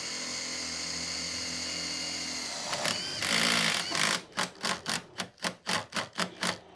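A screw is driven into steel while a set of bifold doors is fitted to a garden room. A steady motor whine runs first, then a brief burst of drilling, then a rapid run of evenly spaced loud impact clicks, close and alone.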